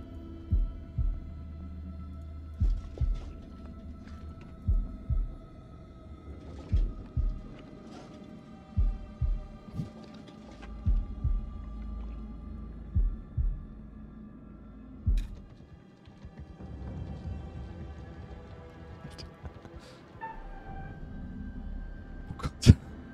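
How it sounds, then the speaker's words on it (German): Heartbeat sound effect from the horror video game House of Ashes, a steady pulsing thump repeating about once a second over a low ambient hum, with a few sharp accents. "Drücke im Rhythmus des Herzschlags."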